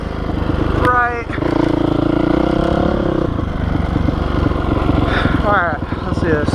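A Honda CRF450R dirt bike runs along trails with a loud, close engine drone. The revs rise and fall, and the rider's voice breaks in now and then.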